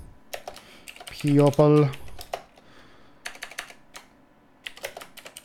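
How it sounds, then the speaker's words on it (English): Quick clattering taps on a computer keyboard come in short clusters, close and crisp, with someone speaking a brief word and a short tonal chime sounding midway. "I'm going to type."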